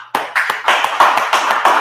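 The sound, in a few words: people clapping hands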